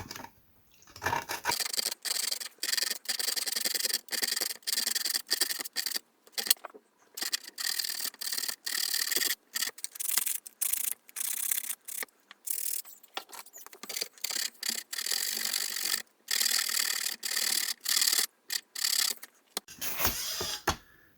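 Repeated rasping strokes of sandpaper rounding the edge of a wooden knob by hand, steady back-and-forth bursts with brief pauses, close up and without talk.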